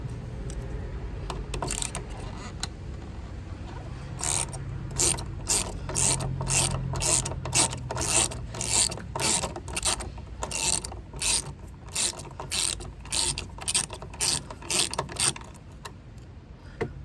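A hand ratchet clicks steadily while loosening bolts during a home service of a VW Golf, first in a few scattered strokes, then in a long, even, close run of rapid clicking.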